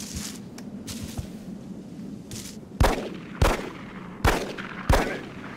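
Gunfire in the video game X-Com Rangers over a low rumbling ambience: four sharp, loud single shots, evenly spaced, ring out in the second half.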